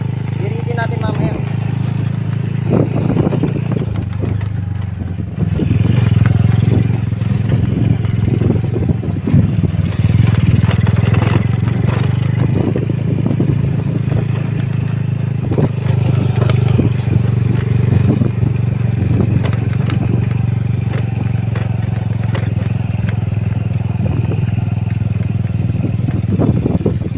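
A Honda Wave 100 motorcycle engine idles and runs on test after repair work, a steady low drone with occasional throttle rises and mechanical clatter, close by, while someone talks over it.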